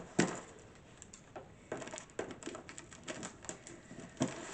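Scissors snip open a shipped package holding a bird play top, a few sharp clipped cuts and crinkly rustles spaced through the moment, close and fairly quiet.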